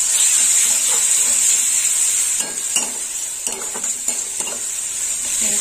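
Garlic and ginger paste sizzles in a pan as it is stirred and sautéed, with a steady hiss running underneath and several sharper scraping strokes from the spoon in the second half.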